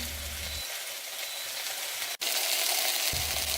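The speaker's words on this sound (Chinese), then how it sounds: "加进全部的香料一起炒香" Loud, even sizzling from a hot wok as spices stir-fry with browned chicken, a constant hiss broken by one sharp click partway through.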